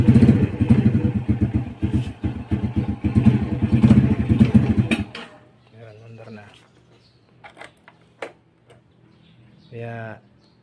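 A Euro Marvel 125 motorcycle engine idles in first gear with a loud, rapid, steady putter for about five seconds, then shuts off, leaving faint clicks and brief speech.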